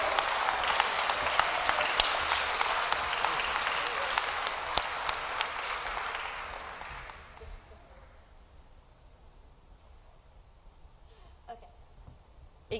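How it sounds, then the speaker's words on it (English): Audience applause at a middle school awards assembly, a dense burst of clapping that fades out after about seven seconds, leaving quiet room noise with a few scattered claps. "one last round of applause for all these people who did so well"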